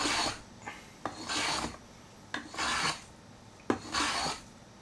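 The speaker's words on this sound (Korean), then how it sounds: "장작은 톱질 안 하고 쪼개고 찢어서 만드는 거라 정말 많이 깎아야 면이 잡히죠" A hand plane shaves a piece of split, dried firewood with four long rasping strokes, each opening with a sharp catch of the blade and separated by short pauses, close and clear.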